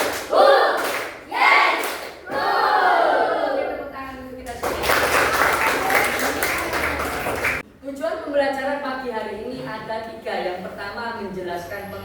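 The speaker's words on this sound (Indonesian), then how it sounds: "Oke, tepuk tangan kita semua." A primary school class bursts into a dense burst of hand clapping in the middle of the clip, with a teacher talking before and after.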